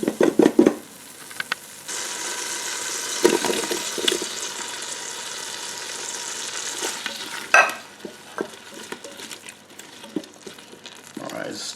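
Sausage sears in butter inside a Ninja Foodi XL, a steady sizzle running for several seconds with stirring and scraping clatter in between and some sporadic talk.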